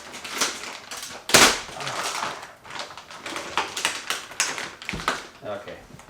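A Marantz AV7704 AV receiver being pulled out of a tough plastic bag with tape on the front: loud, crinkly plastic rustling and crushing with sharp snaps, continuous and close throughout.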